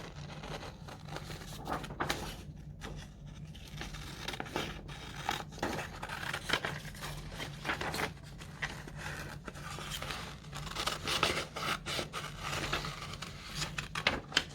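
Scissors cutting a letter shape out of colored paper, quiet close snips and paper rustling repeating irregularly throughout without speech.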